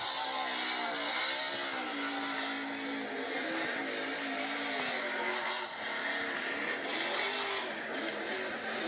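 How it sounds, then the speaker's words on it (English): A NASCAR race car in a video game does a burnout on a grass patch at a racetrack after a win, giving a loud, continuous engine roar with rising and falling revs that holds steady for the whole stretch. "Gonna burn out of that new little grass patch on the racetrack."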